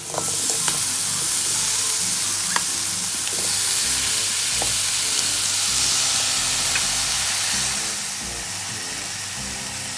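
Sliced red onion and chopped tomatoes hit a pan already holding chicken for a Kerala-style chicken biryani, giving a loud, steady sizzle with occasional stirring clicks, close and continuous before easing slightly near the end.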